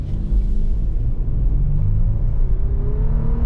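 A 2025 Toyota 4Runner engine accelerating hard, a loud steady low rumble with rising whir as revs climb through the gears, close and continuous with no talk.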